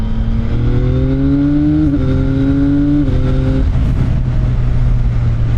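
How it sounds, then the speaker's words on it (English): A CFMOTO 675NK three-cylinder motorcycle drones steadily while being ridden, its engine pitch climbing and then dipping between gear changes. It is loud and close under a constant rush of wind, with no voices. "this is the first time for me riding a 3-cylinder"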